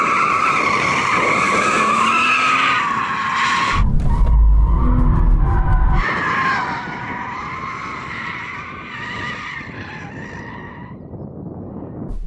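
A BMW M240i with a rear differential slides, its tyres screeching loudly and steadily for several seconds as the engine roars, with a brief lower rumble midway.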